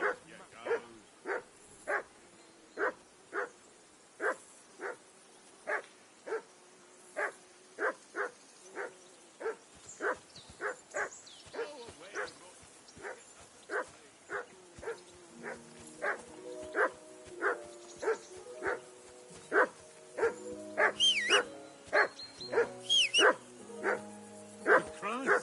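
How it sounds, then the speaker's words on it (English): A dog barks repeatedly in Kingdom Come: Deliverance 2, sharp evenly spaced barks at first, then quicker yips and overlapping barks building toward the end, with faint voices underneath. "Call off that damn dog"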